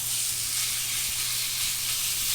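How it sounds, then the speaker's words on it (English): Ground beef sizzles in a pan for a breakfast scramble, a steady, even frying hiss with no talk over it. "So now we're just gonna cook our ground beef"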